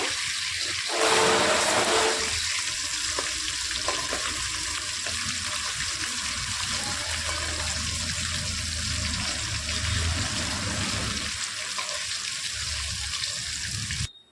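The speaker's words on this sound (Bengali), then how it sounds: "এবার নিজেকে অপর পাশগুলোকে ভেজে নেব।" Hilsa fish pieces frying in oil on their second side make a continuous close hiss and sizzle, louder in the first couple of seconds, then holding steady until an abrupt stop at the end.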